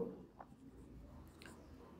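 Pen writing by hand on paper, faint short scratching strokes in a quiet room, with no one speaking.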